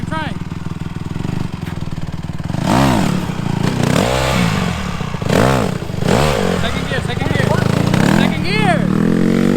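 A kid's dirt bike engine revs repeatedly, rising and falling in rapid pulses as the rider attempts a circle wheelie, loud and close with some clatter.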